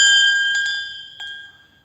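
A church bell in Ouro Preto shifts on its mount, giving a bright ringing clink that decays slowly, with a couple of lighter metallic taps as the ring fades.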